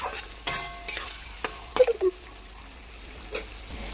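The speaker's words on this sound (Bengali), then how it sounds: "এবার আলু পটলটা ঢেলে দেবো, ভালো করে কষিয়ে তারপরে উষ্ণ গরম জল দিয়ে দেবো" Potatoes and pointed gourd fry in an oiled pan for a Bengali-style dish, giving a soft, steady sizzle broken by a few sharp clinks and scrapes of a stirring utensil, close by and without voices.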